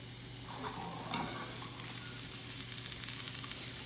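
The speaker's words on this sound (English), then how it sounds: "So right now we're just gonna saute this until the vegetables get soft." Chopped vegetables and spinach sauté in a pan for a veggie omelet, giving a steady soft sizzle with occasional stirring scrapes, fairly quiet and close with no talking.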